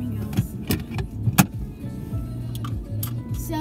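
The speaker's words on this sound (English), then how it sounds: "we're driving to the beach." Interior of a car driving on a road toward a beach in Massachusetts, with a low steady engine and road hum and a few sharp clicks and knocks inside the cabin.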